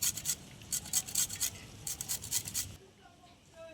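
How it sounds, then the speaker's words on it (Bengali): Gondhoraj lemon's green zest being grated, a dry rhythmic rasping in quick bursts that fades near the end. "গন্ধরাজ লেবুটা আমি ঘষে নেব, হালকা করে সবুজ অংশটা নিয়ে নেব আমি ঘষে"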